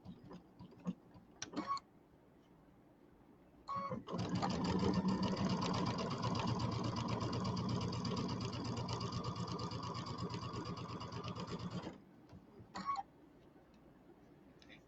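A fairly new sewing machine stitches Kimberbell Cutie table topper pieces together, a steady mechanical hum for about eight seconds with short stop-start bursts before and after.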